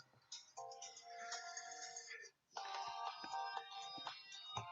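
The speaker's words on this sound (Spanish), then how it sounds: "se me olvidó poner en silencio el teléfono" A mobile phone ringtone plays a bright repeating electronic melody during a materials-strength class, pausing briefly partway through and then resuming, fairly close and steady with no talking over it.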